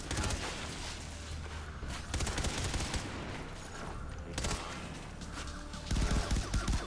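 A gun fires in rapid, loud bursts in Far Cry 3 Blood Dragon, the shots dense and nearly continuous with brief lulls between volleys.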